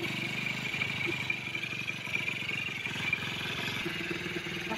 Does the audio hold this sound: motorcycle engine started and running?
yes